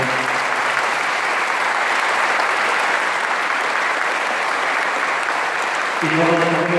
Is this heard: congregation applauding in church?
yes